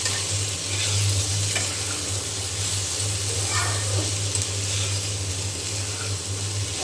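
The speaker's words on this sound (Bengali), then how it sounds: "এখন আমি নেড়ে চেড়ে ভাজিটা করে নেব।" Potato and egg bhaji sizzles steadily in a frying pan, seasoned with turmeric and salt, with occasional stirring scrapes over a continuous close frying hiss and a low hum in the background.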